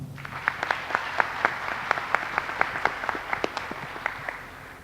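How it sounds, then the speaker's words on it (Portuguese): An audience at a Brazilian conference session on new consciousness applauds a church minister, a moderate, fairly even clapping with distinct sharp claps standing out over a softer crowd wash. "uma salva de palmas"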